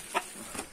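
An Asil rooster and his hens let out two short clucks, a sharp one followed by a softer one, close and brief.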